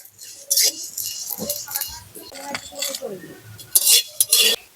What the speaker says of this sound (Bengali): আবার মাঝের মধ্যে এইভাবে একটু খুন্তি দিয়ে নাড়িয়ে নিতে হবে